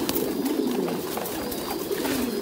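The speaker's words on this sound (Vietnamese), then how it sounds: "Cho mọi người xem hình ảnh thực tế chim bồ câu nó đang ăn như thế nào này." Thai Titan meat pigeons coo steadily while feeding at a farm, a continuous low murmur of overlapping calls from several birds close by, with no talk.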